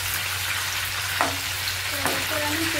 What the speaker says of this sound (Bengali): তো এইভাবে হালকা করে ভেজে নিতে হবে মাংসটা, বেশি কড়া করে ভাজা চলবে না।